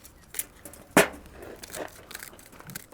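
Worn old scissors snip through the tough roots of a Japanese white pine being repotted: one faint cut, then a sharp, louder crunching snip near the start, followed by quieter rustling.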